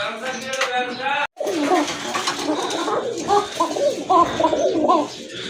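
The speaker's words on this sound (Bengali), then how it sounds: "মাশাল্লাহ এক জোড়া কোকা কবুতর দেখতে পাচ্ছেন খুবই সুন্দর ডাকে" A pair of Koka pigeons, both males, coo in a series of soft, rounded calls close by, with steady background noise and a voice talking at times.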